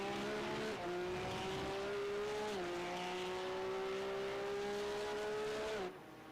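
Race car engines in a sim racing game at Circuit Gilles Villeneuve drone loudly at high revs, dipping in pitch as the cars brake hard, then the roar cuts off abruptly near the end.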